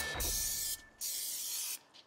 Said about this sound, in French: On achète une canette de liquide à nettoyage à frein et